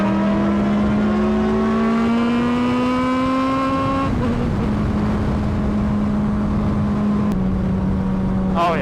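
Motorcycle fitted with new carbon fiber wheels accelerating, its engine whine rising steadily in pitch through a gear, dropping at a shift, then droning on loud and close with wind noise.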